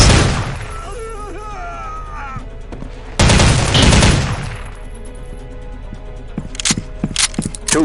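Gunfire rings out in Soldier of Fortune 2: Double Helix, with a loud, close opening volley, a second heavy burst, then scattered sharp single shots and cracks, and no talking.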